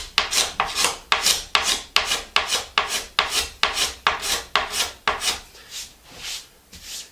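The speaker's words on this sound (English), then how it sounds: "there's 2 more spots I got to take care of with the scraper" A hand scraper works glue spots off a wooden tabletop, with about fourteen close, even rasping strokes in a brisk rhythm that soften toward the end. No talking.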